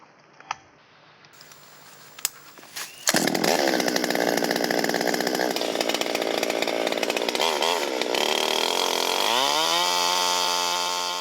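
A few clicks and taps, then a chainsaw roars to life and runs loudly and steadily, its engine pitch dropping as it bogs into the cut through a fallen tree.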